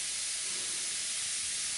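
Bragman Turbo yeast mash fizzes inside a fermentation flask, giving a steady, even hiss that goes on without a break.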